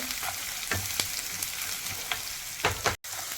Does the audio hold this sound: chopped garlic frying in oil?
yes